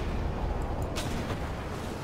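A Panzer II H tank cannon firing in War Thunder, one dull heavy boom buried in a loud, constant engine rumble and battlefield noise, with a brief crack near the middle.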